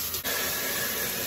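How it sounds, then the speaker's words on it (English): A hot cooking pot hisses steadily as water is sprayed onto its bottom in a kitchen sink, a loud continuous close rush of spray and steam. "scalding the bottom of the pot by spraying water in the sink and instead of inside of the pot itself"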